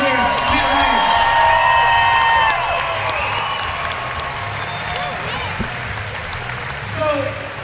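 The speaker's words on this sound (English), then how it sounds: "give a round of applause to the producer here, Matt Ryder" A crowd at a fight event applauds producer Matt Ryder with clapping, cheering and whoops, loudest in the first seconds and then settling to a softer roar mixed with shouting voices.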